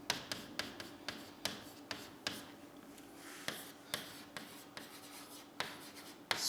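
Chalk or pen writing on a board in a Hindi geography lesson on India's monsoon climate, heard as quiet, irregular scratchy strokes and taps in short bursts, with no voices.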